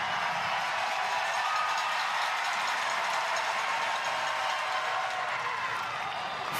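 A baseball crowd at a championship softball game rises with sustained cheering and applause, a steady, dense roar of many voices and clapping with no clear breaks.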